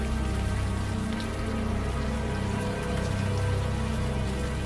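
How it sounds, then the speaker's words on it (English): Steady, dense rainfall with soft patter and splashes, constant and enveloping from start to end, in the adventure game Unavowed, with no voices. "the warm rain is coming down"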